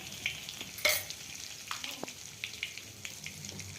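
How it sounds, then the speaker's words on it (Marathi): Oil and butter sizzle in a pan while heating for the pav bhaji tempering, a steady close frying hiss with occasional spoon clinks and stirring scrapes. "इथे फोडणीसाठी आपण थोडं तेल घेतलंय आणि थोडं बटर टाकणार आहोत"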